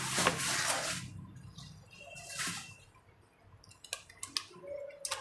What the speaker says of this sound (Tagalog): Papakita ko lang na huhugasan ko yung pitsay ko.